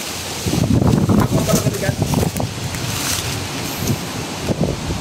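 Strong wind buffets the microphone in loud, gusty rumbling bursts near a bridge high above the ground, with voices talking intermittently beneath the roar.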